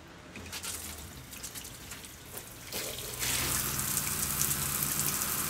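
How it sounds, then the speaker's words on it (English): Water spraying from a newly fitted shower inside a van conversion, tested with the front panel still off; a patter that starts faint and grows louder and fuller partway through, steady and close. "And then we're going to test the shower."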